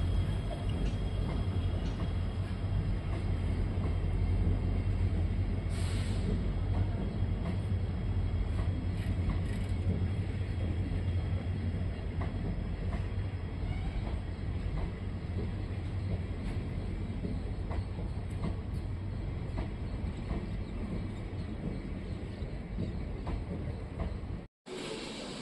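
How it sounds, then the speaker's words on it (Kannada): A WDP4 diesel locomotive hauls the Talaguppa–KSR Bengaluru Intercity Express into Shivamogga Town station, a loud, steady low rumble with wheel clatter that runs on for the whole stretch before cutting off abruptly near the end. "WDP4 ಲೋಕ ಬಂದ್ಬಿಟ್ಟು intercity express, Talaguppa to KSR Bengaluru intercity express"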